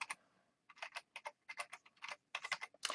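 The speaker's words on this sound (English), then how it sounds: "And then I type in a password." A password is typed on a computer keyboard in quick, irregular clusters of light clicking keystrokes, close and fairly quiet, with brief pauses between bursts and no talk.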